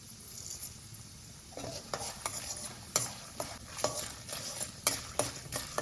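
Chana dal, urad dal and cumin frying in a pan: a soft sizzle under repeated scraping and stirring strokes that grow busier and louder in the second half, close and rhythmic.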